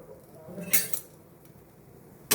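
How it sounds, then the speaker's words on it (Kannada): A metal lid comes off a frying pan where bread is frying, giving one clear clatter and clink near the middle, then a second sharp clink at the end over quiet kitchen background. "ಮುಚ್ಚಳವನ್ನು ತೆಗೆದು"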